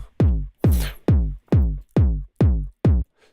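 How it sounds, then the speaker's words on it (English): Seven punchy kick drum hits from Logic's Drum Synth, distorted with COLDFIRE for extra grit and attack, land in a steady rhythm with booming low tails and a crunchy top. One hit carries a brief noisy burst. No voices are heard. "the way I'm using COLDFIRE is to add some more punch and some more grit to it"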